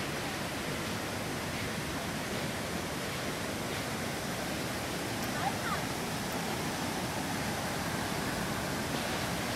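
Cachoeira dos Prestos waterfall in Joanópolis, São Paulo, roars as a constant, dense, broadband rush of falling water, loud and unbroken throughout.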